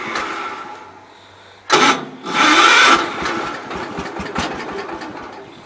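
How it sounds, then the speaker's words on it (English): A lawn mower engine, unused for months, with its PTO disengaged and a snow blower still mounted, cranks briefly, then catches and fires up loudly before settling into a steady idle close by. "I haven't started this thing in months and it fires up that easy"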